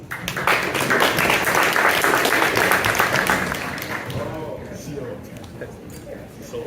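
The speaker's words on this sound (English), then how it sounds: "Round of applause." Audience applause at a startup fellowship pitch competition, loud sustained clapping from a crowd that fades out over several seconds, with some voices mixed in.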